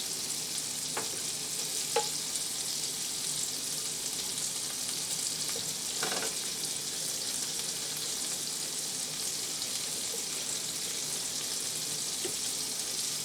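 Golden chanterelle mushrooms frying in butter give a steady, soft sizzle and crackle that runs through the whole stretch, with a few faint clinks and stirring sounds and no talking.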